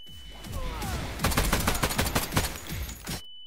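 Rapid automatic gunfire from a weapon in Garry's Mod, a loud burst of closely spaced shots rattling for about two seconds, preceded by softer shots and ending abruptly in silence.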